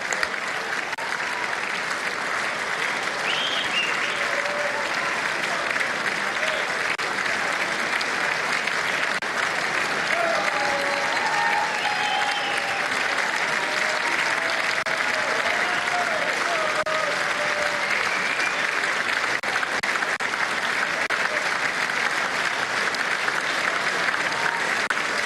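Long, sustained applause from a large audience at the State of the Union address, a dense steady clapping that fills the room without a break for the whole stretch.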